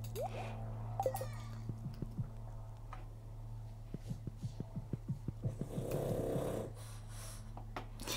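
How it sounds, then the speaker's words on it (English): A pet snoring nearby in a quiet room, a run of soft rhythmic snorting breaths under a steady low hum, with a brief rustle near the end. "snoring again"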